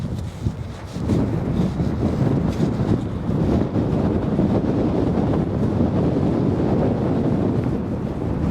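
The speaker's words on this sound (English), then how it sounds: "It's windy." Strong wind buffets the microphone throughout a coastal walk near Sker Point, Porthcawl, as the tide comes in, a steady loud roar with gusty rumbling and no talk.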